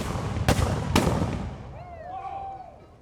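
Two loud, sharp musket shots crack close together from Spanish troops in a reenactment of Drake's raid on St Augustine, followed by rolling echo, crowd noise and whistling or cheering voices in the background.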